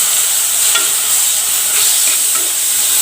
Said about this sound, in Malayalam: ഒരു തക്കാളിപ്പഴം കൂടെ ഇട്ട് വഴറ്റുകയാണ്